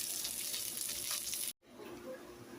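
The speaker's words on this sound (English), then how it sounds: "While our second and final batch are frying up" Chicken patties sizzle in vegetable oil in a pan, a steady crackling fry that cuts out briefly midway, then resumes more softly.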